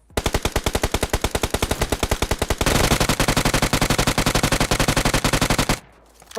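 PUBG Mobile gunfire rattles as sustained automatic bursts, loud and close, with rapid evenly spaced shots that speed into an even denser stream before stopping abruptly.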